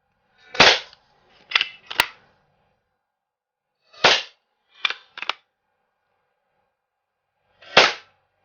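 Seven sharp, dry pops from a freshly resealed Hahn Super Repeater lever-action CO2 BB gun, fired in irregular groups with brief pauses between shots. Each report is loud and close, with nothing but quiet between.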